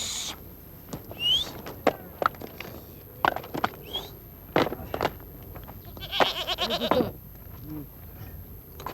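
Goat bleats at a nomads' wolf pit in Ladakh: a few short, wavering calls mixed with scattered knocks and rustles in an open outdoor setting, with a louder, longer bleat near the end.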